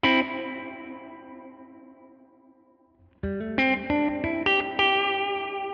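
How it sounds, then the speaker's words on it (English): An electric guitar chord through a Line 6 Helix dynamic hall reverb rings out and slowly decays in a long, lush wash, then a string of picked notes blooms into the same spacious reverb. "Now I also have a very big lush reverb sound using the dynamic hall."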